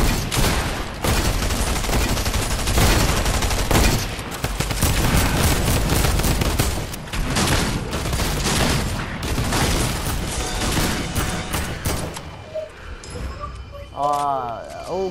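Rapid, dense gunfire in an underwater survival video game, loud, sustained bursts over about twelve seconds that drop away near the end, leaving a faint bubbling, warbling tone.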